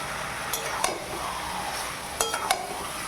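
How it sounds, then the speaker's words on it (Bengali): Marinated chicken, coated with salt, turmeric and yogurt, is stirred in a pan over a steady close sizzle, with a few sharp scrapes and clinks of the utensil against the pan. "মাংসটা ভালো করে আমি নেড়ে নিচ্ছি"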